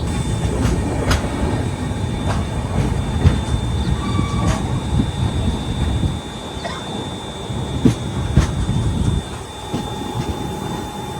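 The Himsagar Express rumbles close by as it arrives at a station, with rhythmic clickety-clack of wheels over rail joints and faint high squeals, then the noise eases slightly.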